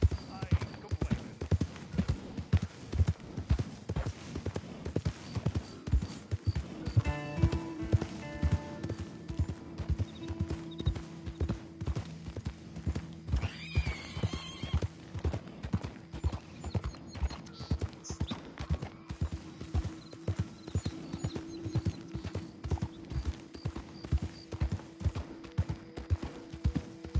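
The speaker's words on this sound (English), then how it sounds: "God damn drunk horse." Horse hooves in Red Dead Redemption 2 clip-clop in a steady, close trotting rhythm throughout, with a brief whinny partway through and some voices talking over the hoofbeats.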